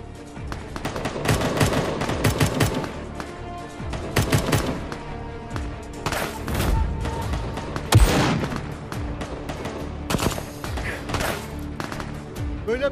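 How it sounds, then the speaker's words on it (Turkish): Heavy gunfire from a village firefight between Turkish and American soldiers: loud, dense machine-gun bursts and rapid single shots overlap continuously, with occasional heavier booming blasts cutting through. "Bu çatışma sesleri ne?"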